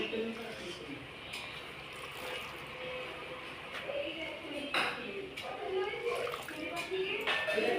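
Running water splashes and sloshes as leafy greens full of sand and mud are washed by hand, a steady close watery rush with irregular louder splashes, while someone talks over it and a voice is faintly heard.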